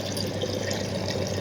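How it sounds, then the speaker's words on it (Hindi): Running water splashes steadily close by as someone washes their face, with a continuous tap-like hiss and no talking. "तो पहले धो लेती हूँ मुंह,"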